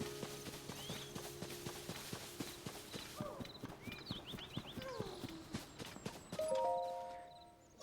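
Steady clip-clop of horse hooves in a regular trotting rhythm in The Legend of Zelda: Tears of the Kingdom, close and fairly loud, with game-like chimes and tones toward the end.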